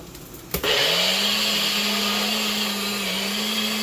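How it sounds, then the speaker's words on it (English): A blender whirs into action after a short clunk and runs at a steady, close, high-pitched whine, mixing a creamy pesto salad dressing. No one speaks. "And then just play with it with the blender."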